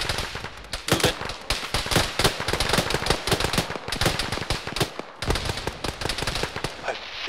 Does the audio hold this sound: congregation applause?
no